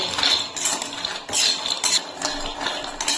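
Two cups of peanuts dry-roasting in a kadai, stirred with a utensil that clinks and scrapes against the metal in repeated strokes, fairly close and with no speech.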